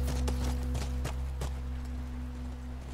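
Horse hooves clip-clop in The Last of Us, a handful of quick, separate thuds over a steady low game drone, fairly close and moderately loud, with no talk over them.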